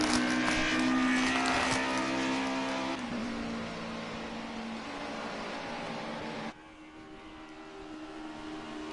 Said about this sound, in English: the BMW makes his way down to the last corner now